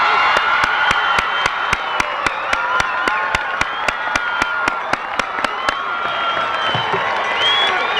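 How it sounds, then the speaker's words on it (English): Sustained applause from a large audience fills a high school commencement for the class of 1988, dense and steady, with a few sharp individual claps punctuating the roar throughout. "Let's have a big round of applause for this class of"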